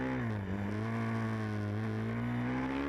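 Supermoto racing motorcycles drone at a steady, held engine pitch during a race in Poznan, Poland, a continuous high buzz at moderate distance with only slight wavering in revs.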